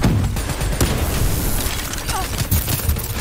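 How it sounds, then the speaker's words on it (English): A grenade blast in the Call of Duty Black Ops 3 campaign booms loudly amid a dense, chaotic barrage of gunfire and impacts, the heavy rumble continuing under ongoing combat noise. "We just gotta chug a little grenade right there."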